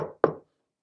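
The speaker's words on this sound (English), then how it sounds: "he hurried straight to Grandmother's cottage and knocked on the door" A single sharp knock on a cottage door, close and clear, preceded by a brief fading sound and followed by silence.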